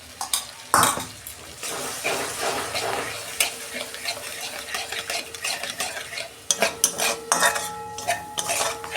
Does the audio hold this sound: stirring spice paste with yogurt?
yes